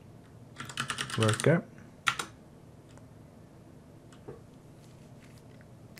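Short bursts of typing on a computer keyboard as commands are entered on an Ubuntu server: a quick flurry of clicks, a brief pause, then a second short run, with a voice briefly audible and near silence afterwards.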